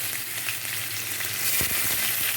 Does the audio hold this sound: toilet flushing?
no